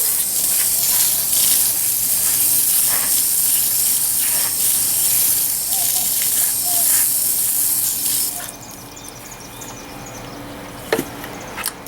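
Shibori-dyed fabric, still tied with rubber bands, is rinsed under running water, a loud steady hiss of spray for about eight seconds before the flow drops to quieter drips and handling sounds.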